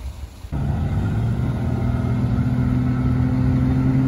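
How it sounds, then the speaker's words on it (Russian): Stock non-turbo engine of a UAZ off-road vehicle climbing a steep vertical ascent, starting quietly then jumping to a loud, steady, labouring drone held close for several seconds, without talk. "По звуку стандартный мотор УАЗ без турбо."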